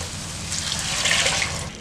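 Water pours steadily from a tumbler into coconut milk for a fenugreek coconut-milk rice pulao in a home kitchen, a continuous close splashing hiss that swells slightly toward the middle.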